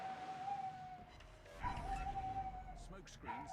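A dog named Brutus howls and whimpers alone in another room, faint and distant beneath someone talking over game sounds.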